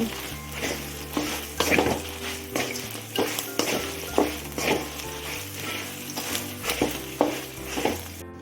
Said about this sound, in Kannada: ಜೀರಿಗೆ ಹಾಕ್ತಾಯಿದ್ದೀನಿ ಹೀಗೆ ಹಾಕ್ಕೊಂಡು ಎಲ್ಲನ ಚೆನ್ನಾಗಿ ಫ್ರೈ ಮಾಡುವ